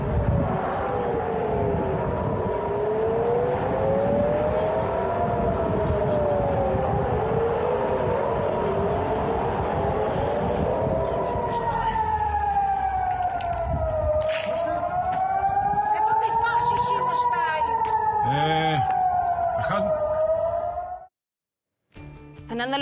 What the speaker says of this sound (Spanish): ya han estado sonando las sirenas en esa zona